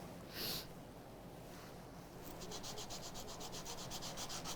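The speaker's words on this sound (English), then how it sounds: "What I want to do is just get everything in here nice and smooth, so sand it out." Sandpaper smooths a carved surface in quick, even back-and-forth strokes, close and fairly soft, starting after a short scrape and running steadily with no talking.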